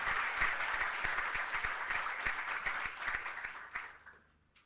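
Audience applause for a speaker being introduced at a Clojure programming conference, a dense wash of many hands clapping at steady volume that tapers off in the final half second.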